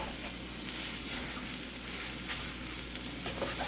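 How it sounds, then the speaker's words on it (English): Tomato paste stirred in a hot pan while making a chickpea scramble, giving a steady, close sizzle and frying hiss with faint scraping of the stir running throughout, no talking. "So we're just going to give this a really good stir here."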